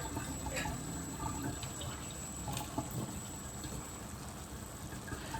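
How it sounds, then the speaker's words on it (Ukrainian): Water poured into a pan over dry pasta and minced meat, a quiet, steady gushing stream with faint splashes throughout. "А тепер мені це все треба залити водичкою."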